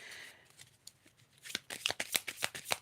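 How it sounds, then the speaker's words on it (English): Tarot cards shuffled by hand, starting with soft sliding and then breaking into a quick run of sharp, crisp riffling snaps in the second half, fairly close and quiet. "I guess because I shuffled the heck out of them."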